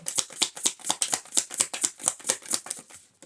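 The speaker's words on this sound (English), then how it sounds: "I was shuffling these together to mix them up" Rapid riffle-shuffling of tarot cards, a dozen or so crisp flutters in a steady rhythm, close by and clear with no talking.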